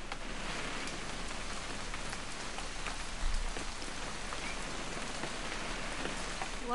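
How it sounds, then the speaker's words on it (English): Steady rain falls continuously on surfaces in What Remains of Edith Finch, a dense, even hiss of droplets with a brief low rumble midway. "It's gonna rain the whole weekend, isn't it?"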